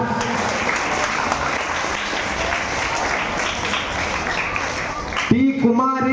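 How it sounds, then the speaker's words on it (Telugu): Dense applause from a school gathering at a certificate handover, steady crowd clapping that cuts off near the end as a voice starts speaking. "క్లాప్."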